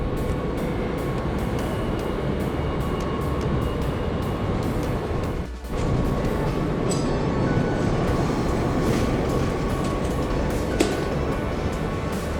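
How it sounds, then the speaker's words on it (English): Steady loud rumble and rattle inside a Matterhorn-Gotthard-Bahn passenger train riding down from Zermatt toward Visp, continuous wheel and carriage noise with a brief dip and faint clicks, no talk. "I'm going to take the Matterhorn-Gotthard-Bahn down to the city of Visp."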